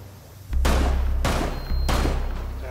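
Three heavy GSG shotgun blasts boom loudly and close in Rainbow Six Siege, spaced about half a second to a second apart with short ringing tails, alone without talk.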